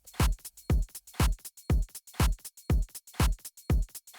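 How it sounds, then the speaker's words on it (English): A percussion sample dings in a steady, even rhythm, about two strikes per second, each hit bright and quickly decaying, with silence between. "Ding, ding, ding, the percussion."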